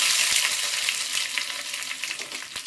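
Mustard seeds and dried curry leaves sizzle and crackle hard in hot oil, a bright, dense, close spitting with small pops throughout.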